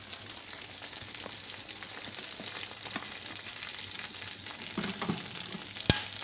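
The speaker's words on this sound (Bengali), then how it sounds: "কড়াইয়ের মধ্যে এবার একটু তেল দিতে হবে।" Hot oil sizzles in a wok, a steady close fizzing hiss like light rain with faint scrapes and one sharp metallic tap near the end.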